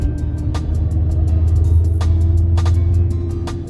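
A car's rear differential whines under throttle while driving, with a steady engine and road drone carrying a faint tonal whine and occasional clicks.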